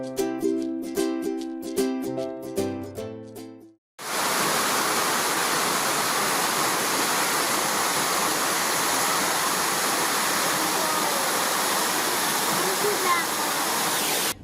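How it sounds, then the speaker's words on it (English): Mackenzie Falls, a waterfall in the Grampians near Halls Gap, Victoria, roars as a steady, loud, broadband rush of falling water heard close, preceded by a few seconds of music with no talking. "It's just what you imagine a waterfall to be."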